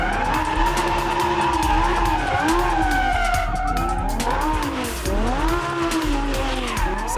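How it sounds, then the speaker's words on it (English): A Mad Mike LB-Works Lamborghini Huracan does donuts at the Goodwood Festival of Speed, its engine wailing loud and close as tyres squeal continuously through repeated rising and falling sweeps. "Well, it does donuts!"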